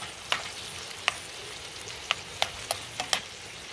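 Squid rings fry in garlic for calamar al ajillo, a faint steady sizzle broken by several sharp pops and spatters at irregular intervals.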